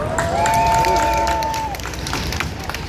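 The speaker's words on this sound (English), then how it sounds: "Let's give them another round of applause." Crowd applause and cheering at an outdoor adult education rally in New York City, a dense roar of clapping mixed with voices and a loud tonal call over it near the start, settling to steady clapping.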